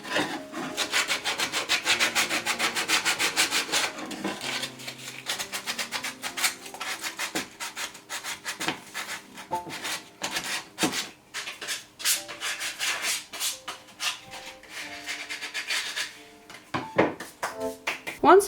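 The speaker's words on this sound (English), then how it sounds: "I'm using a 120 grit sandpaper to smooth the edges." Wooden Easter bunny decoration edges are sanded by hand with 120 grit sandpaper, giving loud, continuous rhythmic rasping strokes of close, steady rubbing.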